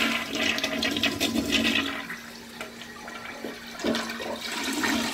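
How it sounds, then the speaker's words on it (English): An American Standard toilet flushing in the bathroom of a Daytona Beach resort hotel room: a close rushing swirl of water that surges, eases off, then keeps draining and refilling with a steady hiss. "let's flush it too."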